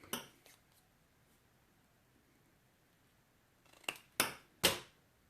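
Scissors snip recycled cardboard for a miniature graveyard: a faint early cut, then three crisp, close snips in quick succession near the end, with quiet in between.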